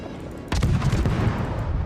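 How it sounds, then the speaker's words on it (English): Naval guns fire in a warship video game: an abrupt loud boom starts halfway through, then a dense rumbling roll of gunfire continues to the end with no speech. "Contribute some gunfire."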